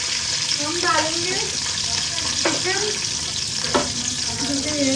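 Curry leaves and cumin seeds crackle and sizzle in hot oil in a home kitchen, a steady spitting hiss with a few sharp pops throughout, no speech.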